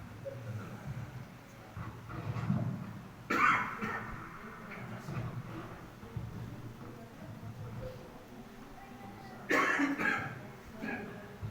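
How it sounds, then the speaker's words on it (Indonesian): Two separate coughs, a few seconds apart, stand out against a low background hum and faint voices nearby. "Kalau kena angin batuk-batuk."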